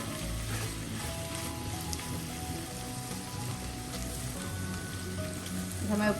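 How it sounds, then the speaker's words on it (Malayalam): Radish stir fry sizzles steadily in a pan on a medium flame, a dense continuous crackle with small pops and a clink near the end, close and alone. "മീഡിയം ഫ്ലെയിമിൽ ഒന്നും കൂടെ ഫ്രൈ ചെയ്തെടുക്കാം."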